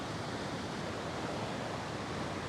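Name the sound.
rainwater running off hill forming new creek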